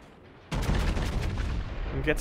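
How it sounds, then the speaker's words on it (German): A naval artillery salvo from a Montana battleship in World of Warships erupts suddenly after a quiet moment, a loud, close booming volley that rumbles and decays over about a second and a half. "da geht die eine Salve"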